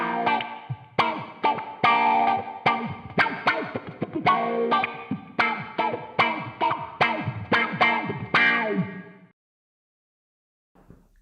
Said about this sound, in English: We've got this set up with a basic clean,